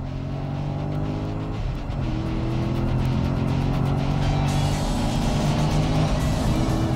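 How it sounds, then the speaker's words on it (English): A Corvette C6 Z06's engine roars continuously while driving at speed, a loud, steady drone with rising pitch as it pulls, heard from inside the car with no talking. "Listen to that engine, huh?"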